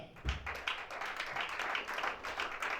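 Crowd applause at a packed conference hall gathering, a steady wash of many hands clapping with a few sharper nearby claps, sustained and moderately loud throughout.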